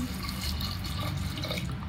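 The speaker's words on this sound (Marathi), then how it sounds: "आता यात टाकूयात पाणी" Water poured into a pressure cooker holding washed chickpeas, a short, soft, steady splashing pour close by, with no talk.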